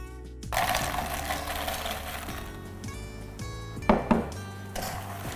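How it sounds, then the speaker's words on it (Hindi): A masala cooking in a pan for gulab jamun is stirred with a metal utensil, giving scraping and clinking strokes over a steady hum, with a couple of sharper clanks near the end. "और इसको ऐसे हमें चलाते रहना है"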